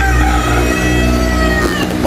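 Light Sussex and Buff Orpington chickens call close by, with loud, sustained tonal clucking and fowl vocalizing that runs continuously, with no speech.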